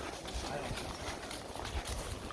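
Horse hooves clip-clopping in a steady, quick rhythm on a trail ride, faint and close, with a soft outdoor background.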